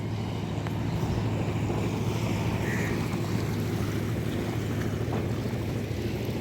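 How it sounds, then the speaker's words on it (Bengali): Incoming tidal current of the Bhairab river at a Khulna ghat rushes as a constant broad wash of water and wind, with a low steady rumble underneath, loud and unbroken with no talk. "দেখেন দেখেন কি পরিমাণ জোয়ার আসছে এবং জোয়ারের স্রোত।"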